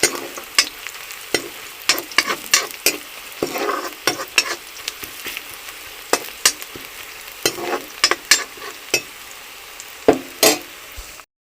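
Tomatoes, dal and potatoes being stirred and fried in a pan in a home kitchen: close, loud sizzling broken by repeated sharp scraping strokes of a spoon, irregular but frequent, with no talk.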